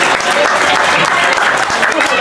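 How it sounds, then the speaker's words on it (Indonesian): Dense, steady applause from an audience at a community religious dzikir manaqib gathering, loud and continuous throughout with no pauses. "Bapak Hamdani, tepuk tangan buat beliau"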